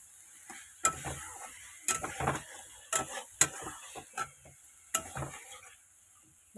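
Fish pieces coated in spices are stirred in a pan during sautéing without any gravy, with sharp intermittent clinks and scrapes of a spatula against the metal over a faint, quiet background sizzle.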